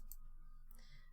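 A single quiet click from a computer mouse, with a second faint click shortly after, in an otherwise near-silent room.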